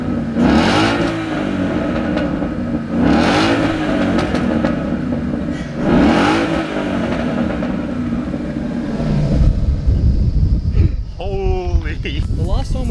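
A modified 5-litre V8 Ford Mustang engine revs hard three times in rhythmic surges, rising and falling close up. A person then starts talking over the idling engine.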